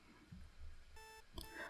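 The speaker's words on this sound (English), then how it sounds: "I wake up to the sound of my alarm clock." A video game alarm clock goes off, a steady electronic beep with sharp harmonic tones around the middle of the short stretch, over faint background noise and low rumble.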